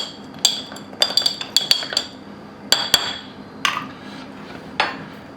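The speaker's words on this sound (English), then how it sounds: "Give it a quick stir." A spoon clinks against a glass while an old fashioned cocktail with a cherry is stirred. Bright, irregular metallic taps come in quick clusters, then a few scattered ones, close and without talk.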